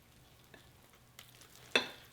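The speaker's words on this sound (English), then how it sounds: "And I'm just going to give this a stir." A wooden spoon stirring thick Nutella bread batter in a bowl, giving soft faint scrapes and a sharper knock near the end, close and without talk.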